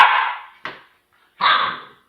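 A puppy lets out three sharp yappy barks, the first long and strained, a short yip after it, then a final drawn-out bark after a brief pause, close and fairly loud.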